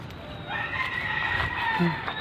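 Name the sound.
chickens on a farm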